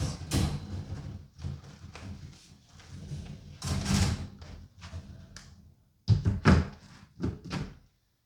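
Hard panels of a portable storage cube system being handled up close: a series of knocks, thunks and scraping clatters in irregular bursts, with quiet pauses between.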